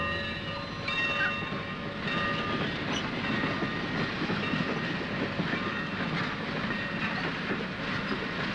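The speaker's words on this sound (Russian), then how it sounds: "После того, как поезд тронется." A train rolls along the rails with a continuous rumbling clatter and metallic squeals, steady and fairly close, no voices.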